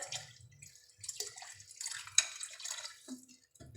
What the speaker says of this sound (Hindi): पानी ऐड करेंगे इसमें।